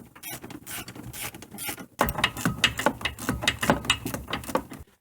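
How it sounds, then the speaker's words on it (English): Ratchet tightening the two rear nuts on a car's brake master cylinder, heard close up as a rapid run of clicks that turns louder and busier halfway through, then stops abruptly; no voices. "So now just go ahead and tighten these two nuts back here in the back of the master cylinder."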